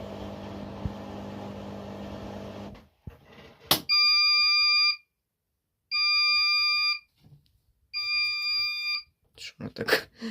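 Three long electronic beeps in a steady pattern, loud and close, separated by short pauses, following a rumbling hum that stops abruptly, from a Bosch Serie 4 WAN28280UA washing machine after a 1400 rpm towel spin.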